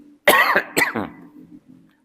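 A single person coughs sharply two or three times in quick succession, loud and close, then trails off into a soft throat-clearing rasp.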